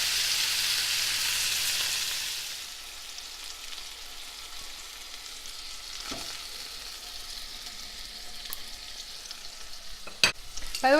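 Browned, just-flipped chicken frying in a pan, a loud broadband sizzle at first that settles into a steady quieter hiss, with a few sharp utensil clicks near the end and no talking.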